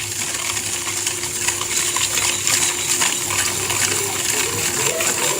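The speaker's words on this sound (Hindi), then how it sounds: "पहले इसको चीनी को जो है वो मिक्स कर लेना है।" A spoon clinks and scrapes steadily in a bowl of sugar and hot water, a busy continuous metallic stirring close up with no talk.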